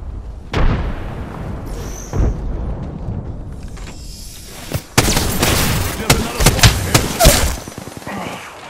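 A frag grenade explodes in Animal Royale, a sharp loud burst mid-clip followed by a dense stretch of further blasts and gunfire-like cracks, with some game voice calls mixed in.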